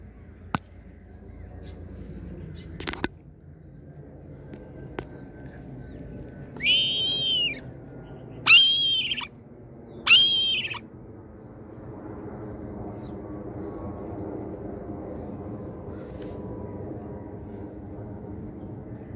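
Kites flying overhead give three shrill, whistling calls in quick succession, distant but clear over a steady outdoor background hum.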